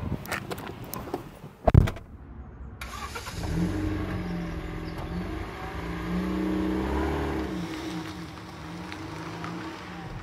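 Small Toyota iQ car on a test drive, a door thump followed by a steady engine drone and tyre roar from inside the cabin, rising slightly as it accelerates, with no talk.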